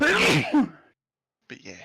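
A single sharp human sneeze bursts out close and loud at the start, followed by a brief pause and then a few spoken words.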